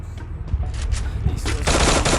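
Rapid automatic gunfire in the Free Fire battle royale game, loud and dense bursts that build into a sustained, crackling stream of shots toward the end.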